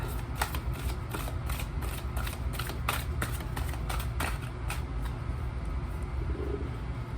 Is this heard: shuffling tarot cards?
yes